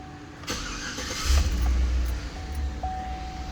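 A 2009 Chevrolet Suburban's engine cranks briefly and fires into a low rumbling idle, heard fairly close in a quiet setting without talk.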